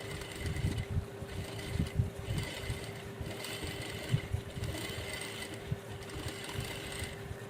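A sewing machine stitching a sleeve for a peplum top runs in a fast, continuous mechanical rattle with a faint steady whine, close and even throughout, no talking.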